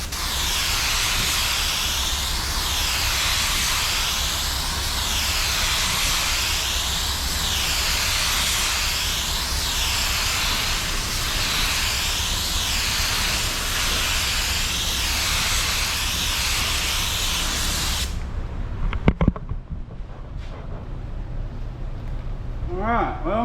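A budget TEMU DV1 clone paint spray gun lays down a first coat, giving a steady, loud, continuous hiss with a pulsing airflow for most of the stretch, then cutting off abruptly and leaving a few faint knocks and clicks.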